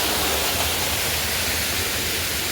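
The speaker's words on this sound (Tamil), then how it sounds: "இது ஒரு சிறிய நீர்வீழ்ச்சி தான்." A small forest waterfall at Rakshagala, Sri Lanka, pours in a loud, continuous roaring rush with a low rumble underneath, steady throughout with no voices.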